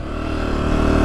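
A 2024 Honda CRF250F dirt bike engine riding in hot desert, loud and close, a steady buzzing drone that rises slightly in pitch and strength over the brief moment, with no voices.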